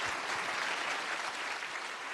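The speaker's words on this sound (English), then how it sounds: "give a round of applause to Governor Pan." Conference audience applauding for Governor Pan, an even, steady wash of clapping from a large hall, moderately loud and without voices.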